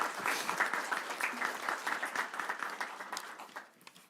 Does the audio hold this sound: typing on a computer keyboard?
no